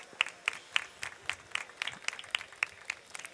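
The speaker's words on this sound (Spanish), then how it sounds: "Un aplauso para ellos." Sparse, faint clapping at a horse-racing Grand Prix ceremony, a few distinct claps falling in a regular beat against a quiet background.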